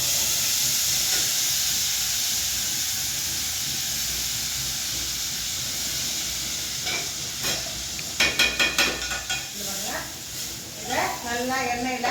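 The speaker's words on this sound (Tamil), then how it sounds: "இதை நல்லா எண்ணெயில் இந்த மாதிரி நல்லா வாட்டிக்கலாம்." Boiled onion, tomato, cashew, ginger and garlic for chana masala fry in hot oil with a loud, continuous sizzle and hiss. Stirring scrapes come in toward the end, and a voice speaks briefly over the frying.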